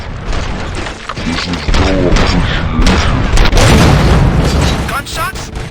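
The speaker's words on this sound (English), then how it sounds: "Gunshots? What's going on?" Gunshots in the Robocop: Rogue City video game, a burst of loud booming shots and pops with a voice talking alongside.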